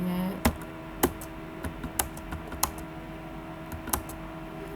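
Values typed on a computer keyboard, a nearby string of uneven clicky keystrokes, some sharper and louder than others, over a faint background hum with no talk.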